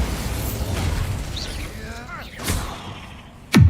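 A magical spell explosion in Hogwarts Legacy ends the moment with a sudden loud burst, after a stretch of softer whooshing and creaking game effects with a voice in the mix.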